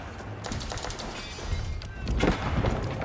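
Cannons mounted on a keep fire in a medieval real-time strategy game, a dense stream of booming shots and thuds in a busy battle, with a commentator's voice faint underneath.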